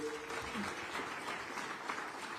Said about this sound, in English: can we give the Honorable Minister another round of applause?